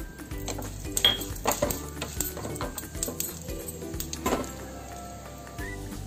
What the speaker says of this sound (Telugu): పోపులు ఫ్రై చేసుకుందాము